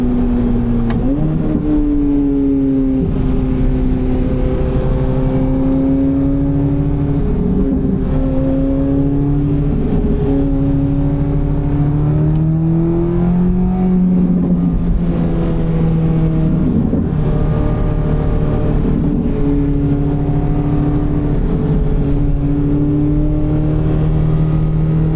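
A Chevrolet Corvette C8 Z06 driving on city streets, its engine note loud and close, with repeated rises and falls in pitch as it accelerates, shifts and eases off amid traffic.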